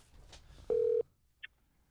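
Single steady electronic phone tone lasting about a third of a second, followed by a brief high beep, from a call being placed during a football program recording; quiet room background and no talk.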